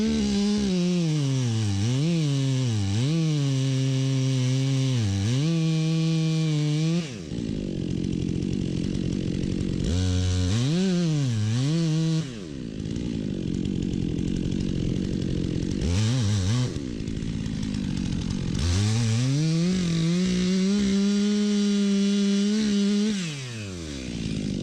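Chainsaw cutting a Humboldt felling notch into a dead pine tree, loud and close, the engine revving up and bogging down in repeated bursts with brief idle dips between cuts.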